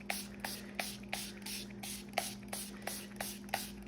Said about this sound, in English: I'm just pouring a little bit of the tea dye into my spray bottle, and I'm spraying this down